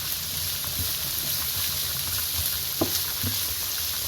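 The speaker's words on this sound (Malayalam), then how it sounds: "ഒരു മീഡിയം ഫ്ലെയിമിൽ വെച്ചിട്ടാണ് കേട്ടോ അത് വഴറ്റിക്കൊണ്ടിരിക്കുന്നത്" A pot on a medium flame sautés ingredients for beef stew, making a steady, moderate sizzle close by, with a few soft stirring taps and small pops.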